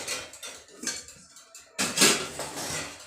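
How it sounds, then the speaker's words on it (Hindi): Metal pots, pans and cutlery clatter and clink at close range as they are picked up and set into a kitchen drawer, with a brief pause before a louder burst of rattling. "तो एक बार ये बर्तन मैं फटाफट से उठा देती हूँ यहाँ से, और साथ ही साथ में ड्रॉअर में लगा दूँगी।"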